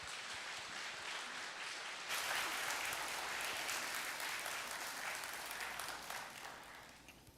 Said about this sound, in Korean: 그 마음으로 우리 박수로 환영하도록 하겠습니다.